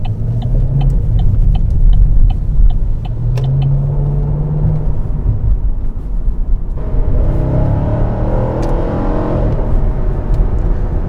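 Steady wind and road roar fills the cabin of a 2015 Chevy SS performance sedan at speed, a constant broadband rumble with engine drone shifting in tone partway through, no talking.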